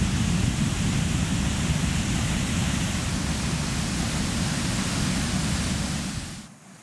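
Massive torrent of water released through the radial gates of the Lake Wivenhoe dam crashing onto the spillway, a loud, steady broadband roar that holds constant before easing off at the very end.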